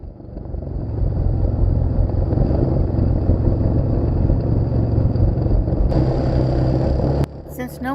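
Quad bike engines ride up an empty dirt road in tandem, a steady loud rumbling drone close by that holds evenly, then briefly shifts near the end as a voice cuts in.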